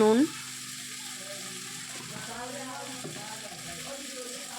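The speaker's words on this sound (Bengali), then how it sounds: "তো এখন সবজিটা দিয়ে নুন হলুদ দিয়ে একটু কষিয়ে তারপরে জল ঢেলে দেবো।" Mixed vegetables with salt and turmeric sizzle in a pan, a steady close hiss after a short clank at the start, with faint stirring and a soft voice in the background.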